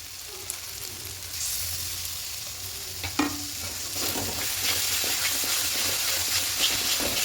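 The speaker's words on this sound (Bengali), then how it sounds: "আবারও ভালো করে একটু কষিয়ে নেব।" Chicken chana masala base with yogurt being stir-fried in a pan, with continuous loud sizzling and hissing steam and occasional scraping of a spoon, close up.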